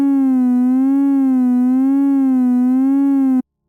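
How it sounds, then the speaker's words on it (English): A sustained buzzy synth note with a slow, regular LFO pitch vibrato, loud and steady, cutting off abruptly before silence. "I want to give it a little motion, a little vibrato, if you will."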